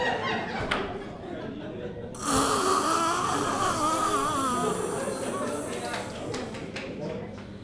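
A stand-up comedian vocally imitates a deep, cavernous snore, a loud sustained rasping drone that swells after a quieter opening and fills the rest of the stretch, with faint crowd noise beneath.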